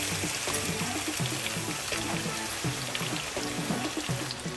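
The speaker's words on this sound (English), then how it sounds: "So I'm just gonna take some of this broth and add it to the prawns." Broth poured onto prawns while cooking: a continuous close splashing and trickling of liquid, steady and fairly loud, with no talk.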